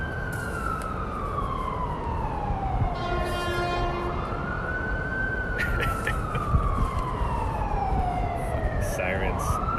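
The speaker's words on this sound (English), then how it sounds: "Sirens." A wailing emergency siren sweeps up and down continuously, loud and close, with rising and falling tones layered over traffic noise.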